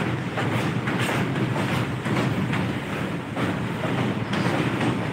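Train crossing a long bridge over a wide river, a continuous loud rumble with rhythmic clatter and swells as the cars roll past, heard close with no voices.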